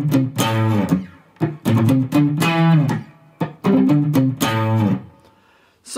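A distorted electric guitar plays a palm-muted E5 riff in loud, punchy bursts separated by short gaps, close and on its own.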